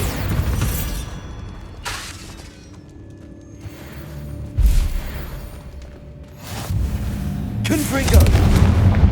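Bombarda blasting spell explosions in the Hogwarts Legacy video game, several loud booming blasts with crashing debris spread across the stretch, a voice calling out spell names between them.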